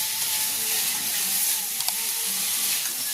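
Chicken meat fries dry in a pan, a steady close sizzle and crackle with faint stirring scrapes and a couple of small sharp pops.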